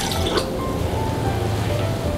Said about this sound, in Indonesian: Kita masukkan sedikit santan encer.